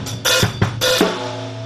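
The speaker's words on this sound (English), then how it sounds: "So you have the triplet feel on the hi-hat using 16th notes" A short drum beat has triplet-feel sixteenth-note hi-hats looping over a 4/4 kick and snare, with a few quick close hits and washy cymbal sustain, played alone.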